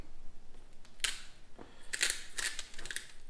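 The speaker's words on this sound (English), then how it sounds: "this grinder is really weak, so you have to really work at it" A weak salt grinder is worked hard over raw baby back ribs, giving a few short, crunchy, gritty bursts of grinding, close and fairly quiet, with pauses between turns.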